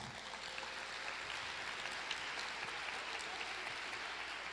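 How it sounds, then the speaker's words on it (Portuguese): A crowd at a tech lightning talk applauds in a steady, hissing wash of many hands, fairly faint and distant, continuing evenly without voices. "Mais um pouco de palmas."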